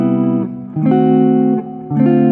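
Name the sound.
guitar playing a variation on the 1-6-2-5 turnaround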